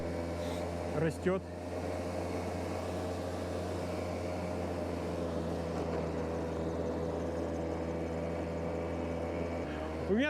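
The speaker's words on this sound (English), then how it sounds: "I feel like I'm riding a chainsaw. The same sound." Small scooter engine buzzing steadily along an old, wet village road in the Russian taiga, a continuous droning hum with a chainsaw-like rasp; a brief louder burst near the start and end, no talk.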